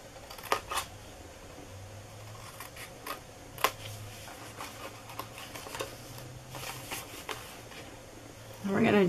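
Scissors cut a paper truffle box template in a crafting setting, a series of short, crisp snips scattered across the stretch at an uneven pace, close by and quiet, followed by a louder rustle of paper at the end.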